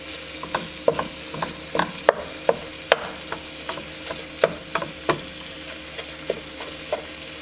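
Ground beef with red peppers, shallots and garlic browning in a pan: a soft sizzle beneath irregular scraping and tapping of a utensil stirring the food, close and with no talking.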